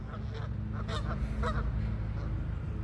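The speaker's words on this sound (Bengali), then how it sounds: "এই যে গিসগুলা দেখতেছেন বা আপনাদের বাসায় বা আমাদের বাসায় হাঁসগুলা" Geese honk several times near water on a day of fine weather, calls rising over a constant low rumble of background noise, moderately close and with no one speaking.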